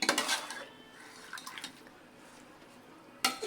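Metal utensil clinks and scrapes against a pot while moringa leaves are stirred with salt, a few quick clattering bursts at the start and again at the end with quieter scraping in between.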